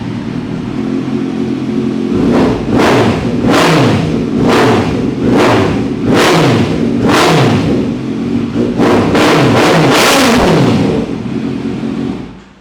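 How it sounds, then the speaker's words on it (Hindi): A Kawasaki Z series superbike engine revs in repeated sharp blips, each throttle stab rising and falling over a steady idle, with a loud, close exhaust note and a quick cluster of revs near the end. "Again a very sweet sounding exhaust note है इसका।"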